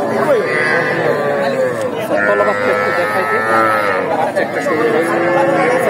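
Friesian cattle lowing at a crowded livestock market, drawn-out moos rising over dense crowd chatter, with someone talking nearby throughout.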